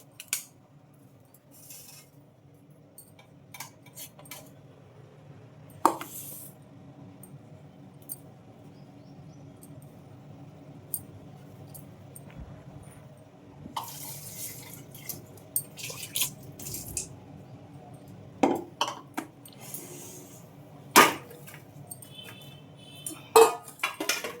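Steamed rice-flour dumplings (undrallu) being set onto a plate in a home kitchen, giving soft scattered clinks and taps of utensil on dish, several sharper knocks toward the end, over a low background hum.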